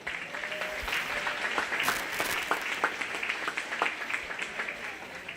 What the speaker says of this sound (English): Let's give these youngsters a round of applause again